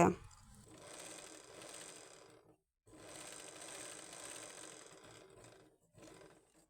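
A sewing machine runs in two steady bursts, stitching a folded half-inch seam on a blouse, with a brief pause between runs and a short stop near the end; close and fairly quiet, with no talk over it.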